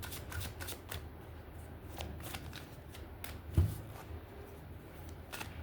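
A tarot deck is shuffled close by in a steady run of soft riffling card slaps and flutters, quiet and continuous with no talk.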